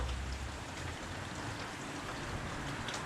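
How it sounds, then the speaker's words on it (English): Rain falls steadily and evenly outdoors in a garden, a dense, continuous hiss that sounds close and fills the whole stretch with no voices. "It's still raining"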